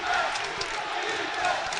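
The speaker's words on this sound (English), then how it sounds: "Now the Max crowd really getting into it." Basketball crowd at a Yeshiva University Macs conference semifinal game against Farmingdale State, a steady, loud roar of voices and cheering from the gym stands that swells slightly at the start and end.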